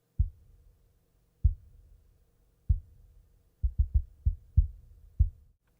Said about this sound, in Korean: 액션 스트라이커에서 나오는 퍼커션의 종류 중에 하트비트라는 사운드를 좀 가져와 봤습니다